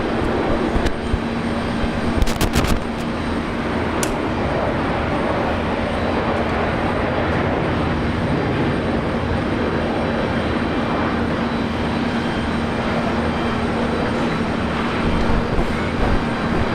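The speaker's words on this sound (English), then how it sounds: "we've got Singapore Airlines A350-900 touching down runway 19 left" A Singapore Airlines Airbus A350-900 touching down on runway 19 left at Brisbane Airport, a loud, steady, broad jet roar that holds unbroken throughout with a few brief clicks, no voices.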